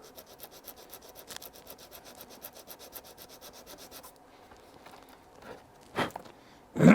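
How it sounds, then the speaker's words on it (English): Close, rhythmic rubbing of sandpaper on the painted front edge of a tab, quick even strokes for several seconds, then a pause and a couple of louder scrapes. "it's just worth sanding the front edge of the middle tab."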